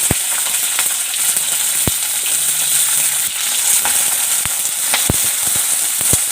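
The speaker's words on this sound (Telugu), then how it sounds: "నూనె పోసుకున్నాం కదా, కొంచెం జీలకర్ర వేసుకోవాలి." Cumin seeds sizzle in hot oil for amla chutney, a continuous bright crackling hiss punctuated by sharp individual pops throughout, with no talking.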